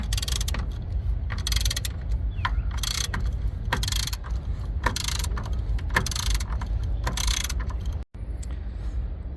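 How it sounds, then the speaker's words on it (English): A ratchet with an extension and 13mm socket works on the battery holder of a Jeep Compass, giving steady rapid clicking in repeated bursts, close and fairly quiet, with a brief pause near the end. "you will need a ratchet with extension and a 13mm socket"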